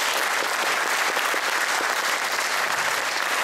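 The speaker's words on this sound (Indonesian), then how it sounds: "Tepuk tangan buat Firman ya." Audience applause for Firman, a law graduate who sells cassava, fills the room as a dense, steady wash of clapping that holds at full strength without any voices on top.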